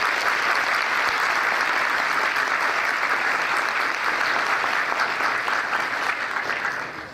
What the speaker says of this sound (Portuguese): Aqui, inclusive, peço uma salva de palmas.